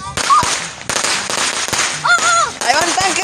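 Christmas firecrackers going off outdoors, sharp loud cracks and pops spaced across a few seconds, with excited children shouting and laughing over them.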